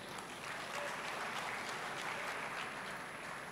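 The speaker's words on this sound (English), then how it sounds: "Big round of applause, please." A large audience at a college graduation day ceremony applauds steadily, a dense, even wash of clapping with no standout claps, heard from a distance in a big hall.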